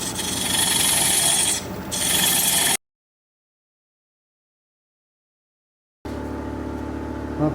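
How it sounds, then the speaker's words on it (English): A diamond point tool cuts a dovetail into a natural-edge alder bowl on a wood lathe, producing a steady loud rasping scrape that dips briefly, breaks off into silence for a few seconds, then resumes. "Take my diamond point tool and turn this into a dovetail."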